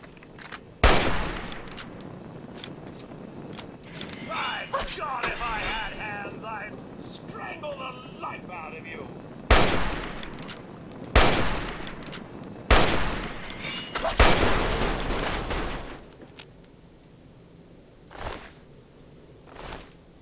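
Gunfire in the video game Fallout 3: several sharp, loud shots spaced irregularly across the stretch, over a faint background hum, with a voice speaking in places.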